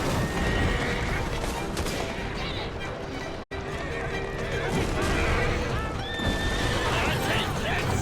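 A horse-drawn carriage in Assassin's Creed Syndicate rattles along with clattering hooves and loud whinnies amid a chaotic street chase, with crashes and gunfire and voices talking over it.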